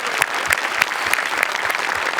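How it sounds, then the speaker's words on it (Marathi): Loud, steady audience applause fills the whole stretch, with dense clapping from a studio crowd at a Marathi comedy show and no talk over it. "एकदा आपल्या हास्य रथी महारथींसाठी जोरदार टाळ्या झाल्याच पाहिजेत."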